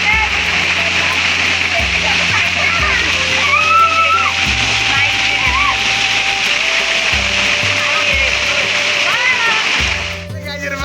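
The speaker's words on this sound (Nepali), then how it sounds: "यहाँ खोलाको साउन्ड धेरै ठुलो छ" A loud river rushing nearby, a broad steady roar of water that dominates throughout, with low thumps and a voice talking over it, fading slightly near the end.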